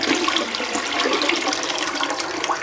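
Water gushes and drains from the tank of a Neo 180 Luxe bidet toilet being installed, a steady close rushing flush that holds for the whole moment without talk.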